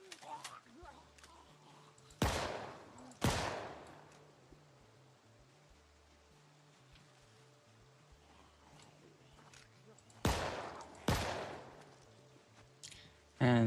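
Gunfire in Project Zomboid: four sharp, loud shots in two pairs several seconds apart, with another burst at the very end, over a low droning backdrop.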